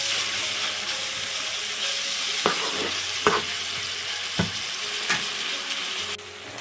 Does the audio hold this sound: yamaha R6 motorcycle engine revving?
no